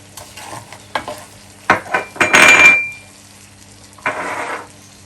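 A spoon scrapes and clatters against a pan while ingredients are stirred and mixed, several short bursts with a longer scraping sweep in the middle, close and fairly loud, no talk.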